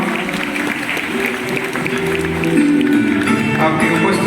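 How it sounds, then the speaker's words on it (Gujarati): Audience clapping at a seminar honour ceremony, a steady sustained wash of applause from a crowd that swells slightly louder toward the end, with faint voices mixed in. "જોરદાર તાળી મિત્રો આ સન્માન કાર્યક્રમમાં."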